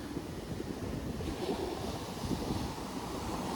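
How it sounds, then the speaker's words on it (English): Breezy wind gusting across an Atlantic Ocean beach on the Outer Banks, a steady rushing buffet with the low roar of surf mixed in, no voices. "It's really breezy out here, by the way."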